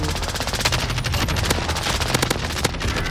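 Sustained machine-gun fire in the shooter game Call of Duty Warzone, rapid evenly spaced rounds pouring out loud and close for about three seconds, with faint voices in the background.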